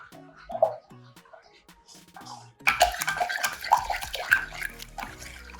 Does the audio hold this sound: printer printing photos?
no